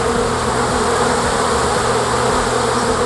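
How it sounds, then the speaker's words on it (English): Dense swarm of bees buzzing around and inside a man's mouth, a loud, steady, close-up drone with no pauses. "He opens his mouth and the bees crowd in."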